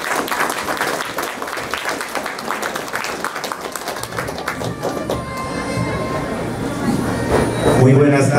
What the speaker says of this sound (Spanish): para quien pido fuerte voto de aplausos